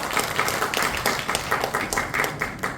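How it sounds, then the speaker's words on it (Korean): A small seminar lecture audience claps, individual claps audible in a fairly even rhythm, lasting a few seconds. "다시 한번 큰 박수 부탁드리겠습니다."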